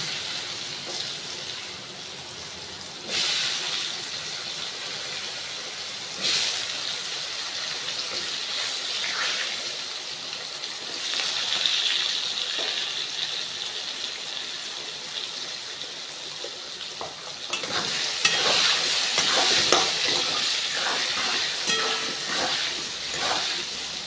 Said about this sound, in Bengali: আমি আলুগুলো দিয়ে দিলাম গায়ে অতটা তেলটা ছেটাবে না আলুটা এবার প্রথমে ভেজে নেব